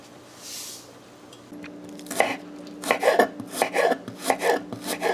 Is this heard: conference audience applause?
no